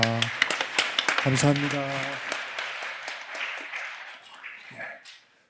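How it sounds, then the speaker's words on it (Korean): A congregation at an Easter Sunday church service breaks into applause after the sermon. The clapping is dense and sustained and gradually fades, with someone speaking briefly over its start. "우리 하나님께 영광과 목사님께 감사 박수 하시겠습니다."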